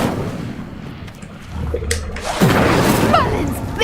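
In Hogwarts Legacy, an Incendio spell lights a stone pyre with a whooshing fiery burst and rumbling blast. A crackling roar of flame follows, and a voice is heard faintly under it.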